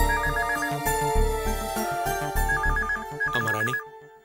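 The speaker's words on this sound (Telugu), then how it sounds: "ఫోన్ ఎవరో చూడు." A phone rings in a home, a loud electronic ringtone melody that repeats in bursts and then stops abruptly.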